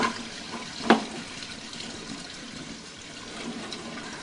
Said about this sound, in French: Là, l'eau qui coule de nouveau.